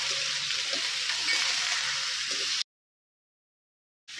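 Mixed vegetables for vegetarian shukto fry in a pan with salt and turmeric, making a close, steady sizzle that cuts to silence partway through and then briefly resumes.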